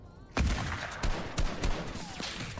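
Gunshots in the video game Fortnite come as several sharp reports, some close together, over game background noise.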